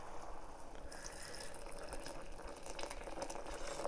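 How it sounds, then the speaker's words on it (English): Homemade mushroom broth with bay leaves pours and splashes through a strainer in a continuous, steady watery rush, close by and without talking. "I'm just going to strain this out."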